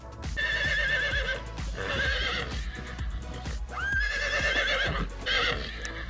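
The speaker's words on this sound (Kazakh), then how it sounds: "Ат." A horse whinnies repeatedly in loud, close neighs with rising and falling pitch, joined by a few hoof clip-clops, with no people talking.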